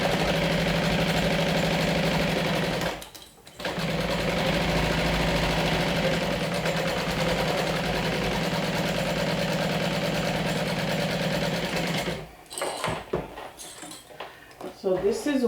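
A sewing machine stitches a clear vinyl beach bag at about a 3 stitch length, its motor a steady close hum that dips briefly near three seconds and then stops around twelve seconds, followed by scattered handling sounds.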